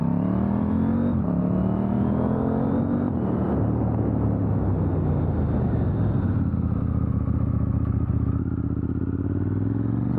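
A KTM 890 Duke R motorcycle engine drones loudly and steadily while riding, with the pitch rising and falling through throttle changes and gear shifts, dominating the whole stretch with wind rumble.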